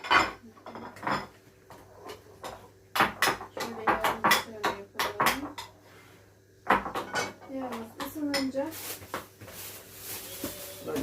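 Dishes and a serving plate clink and clatter in a home kitchen while mor lahana (purple cabbage) salad is being made, bursts of ceramic knocks mixed with cutlery sounds, interrupted by a voice talking.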